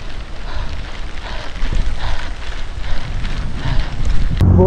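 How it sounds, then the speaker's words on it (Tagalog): Wind roars steadily across a microphone on a mountain road near a church in Infanta, Quezon, a loud, continuous buffeting rumble with no talking. "Buti nakasama yung hangin."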